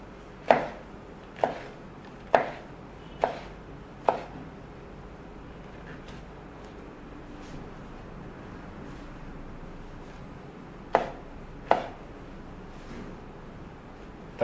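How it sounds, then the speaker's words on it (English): Pleurotus mushrooms chopped into big juliennes with a knife on a board: a run of five sharp, evenly spaced chops, a pause with faint background traffic, then two more chops, close and fairly quiet. "We cut them in big juliennes."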